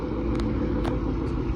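Deep, steady exhaust rumble from a Ford Mustang fitted with a Borla ATAK exhaust, close by and continuous, with a few faint higher clicks over the low drone.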